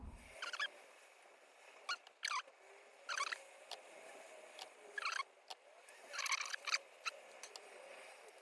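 A blade cuts a circuit board track near the PSU socket of a Dragon 32 Mark II computer, making short, scratchy strokes in irregular bursts. The sound is close and quiet against near silence, with no talking.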